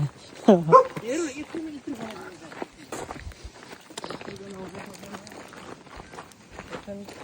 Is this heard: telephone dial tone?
no